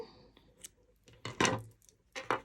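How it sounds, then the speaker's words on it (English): Scissors cut through yarn at close range in a few short, crisp snips, with quiet pauses between them. "now at this point you can cut your yarn"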